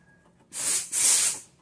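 Compressed air blasts through the cleared fuel return line of a carburetted car, two loud close hissing bursts, the second longer and stronger, with no voices.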